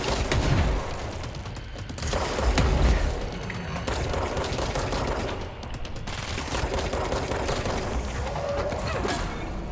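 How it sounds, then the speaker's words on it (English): Missiles launch and explode in the video game Control, a dense, continuous barrage of loud booms and crackling blasts that swells and dips across the stretch with no pause. "So fire missiles at me."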